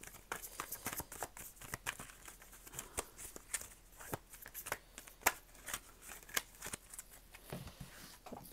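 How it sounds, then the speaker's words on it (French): An oracle card deck is shuffled by hand close up, giving a quiet, continuous run of soft card slaps and riffling taps at an irregular rhythm, with no talking. "je prends l'oracle de la triade que je suis en train de brasser"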